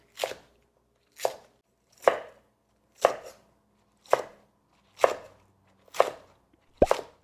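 A knife chops thin green onions into 2.5 cm pieces on a cutting board, giving eight crisp, evenly spaced thunks about a second apart, close and clear with silence between strokes.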